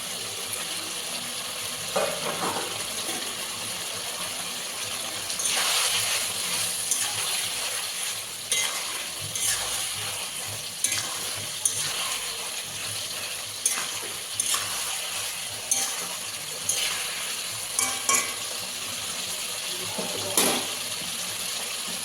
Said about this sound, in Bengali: এবার মাছগুলো দিয়ে দেবো, ভেজে রাখা বাটা মাছগুলো দিয়ে দেবো।